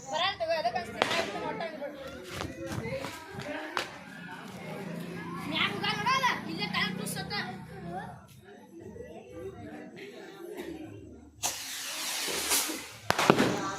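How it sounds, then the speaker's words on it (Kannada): A Diwali rocket firework is lit at home amid chatter and scattered pops. Near the end it launches and bursts with a brief loud crackling rush, with voices talking throughout. "ಇವಾಗ ಈ ಬಾಣ ಹಚ್ತೀನಿ ನೋಡಿ"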